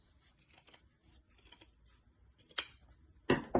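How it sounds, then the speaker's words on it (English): Fabric for ankle tie pants is cut with scissors in several quiet snips, and two louder, sharper cuts come near the end. "So with the right sides facing each other, I'll just go ahead and cut,"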